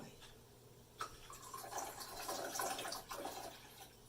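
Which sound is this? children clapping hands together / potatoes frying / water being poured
water being poured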